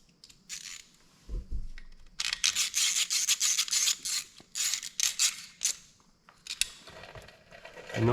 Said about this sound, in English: I know some of you guys like to listen to me put in bolts and hear the ratchet click in and everything